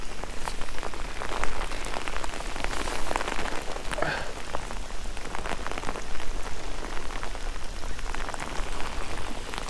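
Steady rain patters densely on surfaces near a flooded river while someone fishes, a continuous close hiss with scattered drips and no voices.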